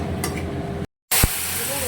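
Small cardamom, cinnamon and mace crackle and sizzle in hot oil in a pan, a steady hissing fry broken by a brief cut. A voice speaks over the frying.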